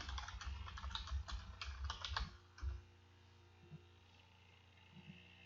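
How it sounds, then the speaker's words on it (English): Rapid typing on a computer keyboard fills the first three seconds as a dense run of close, crisp key clicks, then gives way to a quiet hum with only a few faint taps. "You'll see the cursor blinking within the box, so just commence typing."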